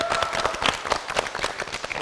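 A studio audience at a televised couples game show applauds. The clapping is dense, rapid and close, and it holds steady for the whole moment.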